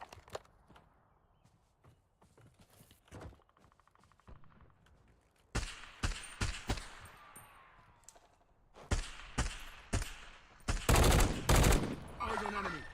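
Gunfire in Call of Duty: Warzone, starting with sparse faint shots and footsteps, then loud close bursts of rapid automatic fire and single cracks over the last seconds.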